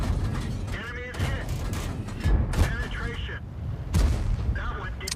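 Cannon shots from a Skoda T-25 medium tank in World of Tanks: several sharp, loud reports spaced a second or two apart, each with a metallic clank, amid mechanical game noise and someone talking throughout.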